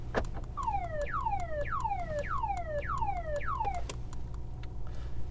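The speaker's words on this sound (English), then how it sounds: "And there's also a siren sound." The siren of an armored 2022 Mercedes S680 Guard V12 wails in a run of about six quick falling sweeps that repeat in a steady rhythm, loud and close, then stops, leaving a light patter of rain.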